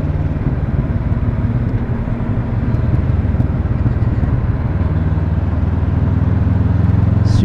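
A 2019 Honda CB500X mid-size adventure motorcycle pulls away hard from a traffic light, its engine a loud, steady rumbling drone that rises slightly in pitch over several seconds.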